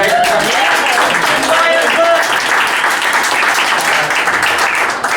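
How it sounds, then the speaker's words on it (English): An audience at a Bigfoot talk applauds speaker Thom Powell with loud, continuous clapping that fills the room, while a voice speaks briefly over the start. "But everybody give a round of applause to Thom."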